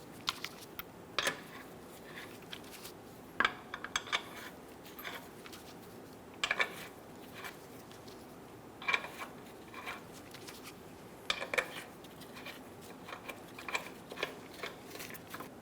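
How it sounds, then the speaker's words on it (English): Lug nuts are threaded by hand onto a wheel of a 2014-2018 Chevrolet Silverado 1500, giving faint, scattered metallic clicks and light scrapes with quiet gaps between them. "Install the wheel. Get the lug nuts started by hand."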